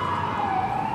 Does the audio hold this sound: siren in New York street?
yes